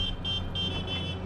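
A stuck car horn in a film beeps in repeated short pulses over a steady low rumble, with no talk.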